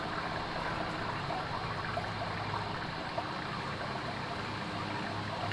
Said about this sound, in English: I'm going to give this a couple more rinses with tap water